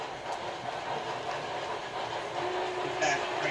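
A model railroad passenger train runs along the layout with a steady rolling hum and light clicking wheels, close by and even, while a faint hiss and brief higher tones sound near the end.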